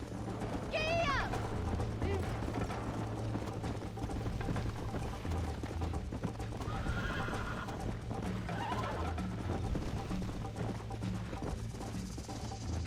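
A horse in the Red Dead Redemption video game gallops and lets out a loud whinny, with hoofbeats running steadily under game music and a voice throughout.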